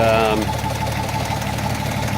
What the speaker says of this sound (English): the engine's running quite well. It sounds like the tappets need an adjustment